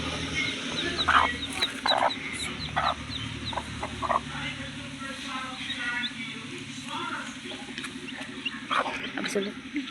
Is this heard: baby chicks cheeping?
yes